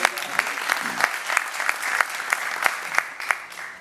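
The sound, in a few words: audience applause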